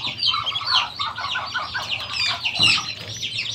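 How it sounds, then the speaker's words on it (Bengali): Many Chinese duck ducklings peep and chirp together in a dense, continuous chorus while eating broiler starter feed, their calls close and lively with a faint low hum underneath. "দেখেন বাচ্চাগুলা, মাশাআল্লাহ অনেকগুলা বাচ্চা এখানে"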